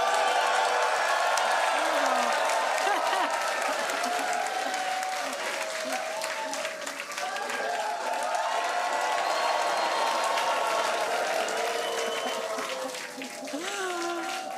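A large crowd at a Starship launch viewing site applauds and cheers continuously, with sustained clapping, scattered whoops and voices blending into a dense, loud roar throughout.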